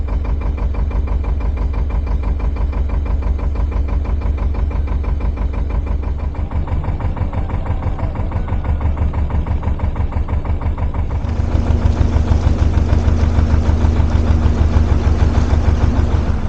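A narrowboat's diesel engine chugging in a steady rhythmic beat close by, its note rising and getting louder partway through as the boat sets off on a cruise.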